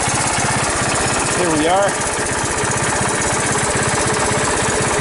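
A 1981 Honda ATC185S ATV engine idles loud and close after a cold start, a steady rapid putter with a brief rising whine partway through, and someone speaks briefly over it.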